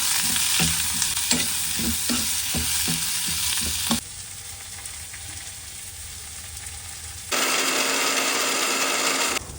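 Garlic, ginger and tomato fry in oil in a home kitchen pan, with rhythmic scraping stirs over a steady sizzle at first, then a hiss that softens and surges loud again.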